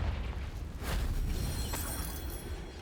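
Confringo spell explosion in Hogwarts Legacy: a loud, rough burst of blast noise swells near the start and keeps roaring with a second crackling flare, dense and close, with no talking.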